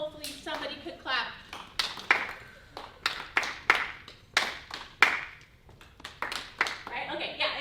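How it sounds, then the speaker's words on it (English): Hands clap a rhythmic pattern in a classroom-style music and math lesson, a series of sharp, close claps in irregular groups with short pauses, while a voice speaks faintly underneath. "So I'm going to clap the secret time and you guys figure out what the secret time is."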